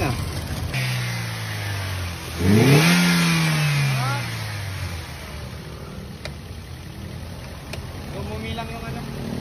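A Toyota Vios engine with a misfire and shaking problem starts and revs once, its pitch climbing sharply and then settling back to a steady idle, heard up close.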